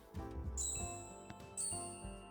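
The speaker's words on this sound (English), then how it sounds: "Yeah, we've got 3 bells." Bright bell chimes sound in an RPG Maker video game, with two distinct ringing dings about a second apart, each leaving a clear sustained tone over faint game music.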